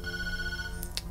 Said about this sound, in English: On the way back to bed, the phone will ring